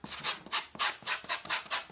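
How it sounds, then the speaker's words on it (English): Foam sanding blocks rub back and forth across a prop's surface in a quick, steady rhythm of about eight hissing, scratchy strokes, close up with no talking. "just you take your foam sanding blocks"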